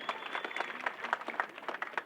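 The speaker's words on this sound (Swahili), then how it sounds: "Makofi kwake basi" Audience applause at a hospital launch event in Kisumu, Kenya: a steady wash of many hands clapping, moderately loud and fairly close, with no voices standing out.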